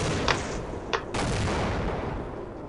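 Enemy gunfire in the video game Half-Life: a few sharp, loud shots crack out in quick succession against a dense, continuous rumble of battle noise, with no talking.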